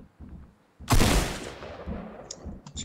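A single loud, sharp gunshot in the Fortnite video game cracks up close and trails off in a fading echo, preceded by faint soft thumps.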